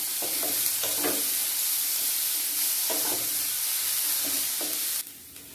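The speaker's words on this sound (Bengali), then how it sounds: "এগুলো একটু ভেজে নিয়ে তারপর আলুটা দেবো।" Steady sizzling from a pan of frying vegetables with chopped tomato, with a few intermittent stirring scrapes, continuous and close, cutting out abruptly near the end.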